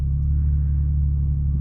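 BMW 1M Coupe fitted with an Akrapovic exhaust, a deep steady engine rumble heard up close and loud, a low idle-like drone holding constant throughout with no voices.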